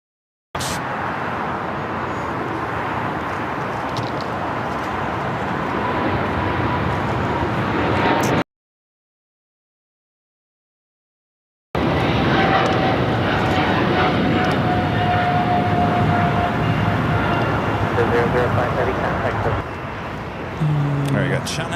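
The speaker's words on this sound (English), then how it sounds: "Queen flying directly over, heading to the south side. Looks like a plain Jane 747. Be touching down on 25 left." A Boeing 747 passing overhead on approach to land at LAX, a loud sustained jet roar with a brief gap partway through, then continuing broadband rumble; a voice talks over it at times.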